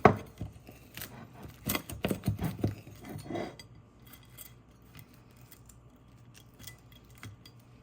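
A knife crunches through a crispy air-fried low-carb tortilla pizza in a quick series of close, brittle cracks and scrapes, then quieter scattered taps as the cutting slows.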